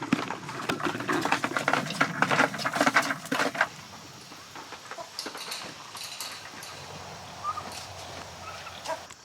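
Turkeys and chickens cluck and peck noisily while eating feed nearby, a dense burst of pattering and calls that thins out to scattered clucks and softer pecking.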